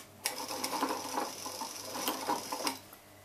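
A sewing machine stitches a side seam slit, a quick run of close, rapid mechanical clatter with rhythmic needle thumps, heard alone without speech.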